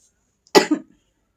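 A single sharp cough from a woman, close and fairly loud, followed by a short trailing rasp, then silence.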